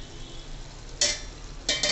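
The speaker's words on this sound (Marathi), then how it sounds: "मध्ये मध्ये आपण परतवत राहायचं थोडं" Mutter paneer masala being stirred in a pan, with two short scraping swishes of a spoon against the pan over a soft steady sizzle, close by.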